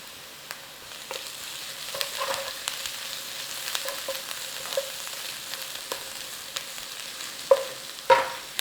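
Garlic fries in a pan with a steady, low crackling sizzle throughout, joined by a few sharp louder pops and scrapes near the end as the pan is stirred.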